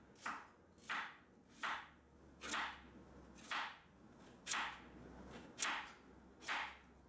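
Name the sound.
knife chopping beets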